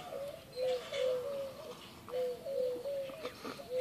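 Doves cooing outdoors on a Texas morning, soft repeated two-part coos at a regular rhythm from fairly near, over quiet ambient background.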